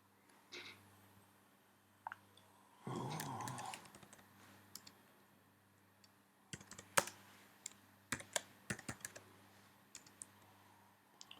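Rapid bursts of typing on a computer keyboard, with one dense run of keystrokes in the middle and scattered clicks and short flurries before and after, close and fairly quiet with no talk.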